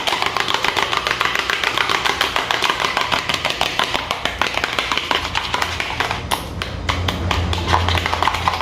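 A sweet filling mixture is beaten by hand with a whisk or spoon for a home dessert delivery, giving a steady, rapid stream of close tapping strokes against the bowl that holds its fast pace throughout.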